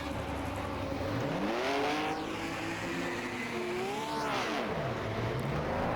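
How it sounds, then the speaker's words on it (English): A 1950s Formula 1 race car engine at the 1957 Pescara race in a racing video game mod revs and shifts, its pitch rising and falling through gear changes in a loud, continuous drone. "Welcome to a 1957 Formula 1 race at Pescara."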